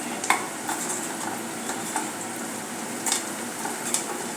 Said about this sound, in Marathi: मी कांदा सतत ढवळत हा गुलाबी केलेला आहे